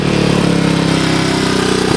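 Suzuki DR200ES single-cylinder motorcycle engine running steadily close by, a dense continuous throbbing idle with a slight rise in revs near the end, no voices.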